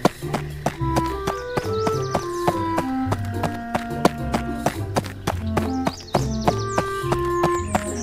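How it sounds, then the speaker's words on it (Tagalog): A horse's hooves clip-clop in a steady, rhythmic pattern as a traveller rides in, mixed with a melodic tuned accompaniment that plays throughout at moderate loudness. "dumating sa lugar si Sumusun, isang manlalakbay na nakasakay sa kanyang matikas na kabayo."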